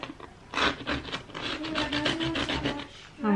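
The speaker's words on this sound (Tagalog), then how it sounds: "ang gamit kong kutsilyo, eto, oh. Yung may para siyang lagari." A serrated knife saws through juicy fruit in a home kitchen, giving a steady rasping, scraping stroke sequence heard close and alone with no talking.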